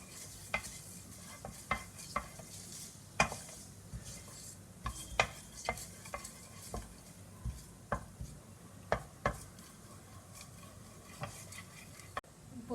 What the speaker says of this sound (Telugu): కొంచెం జీలకర్ర, క్యూమన్ సీడ్స్, మస్టర్డ్ సీడ్స్, ఆవాలు ఇది వేయించుకుందామండి